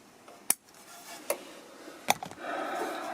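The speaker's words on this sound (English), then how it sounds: "Just trimming the bottom of the excess zip tie." Three sharp snips sound at even intervals as excess zip tie is trimmed on a motorcycle, followed by a soft rustle of handling.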